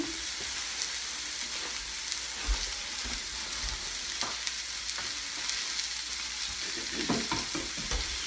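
Three eggs are stirred into a hot frying pan, giving a steady, close sizzle and fry throughout with scattered scraping taps of a utensil against the pan.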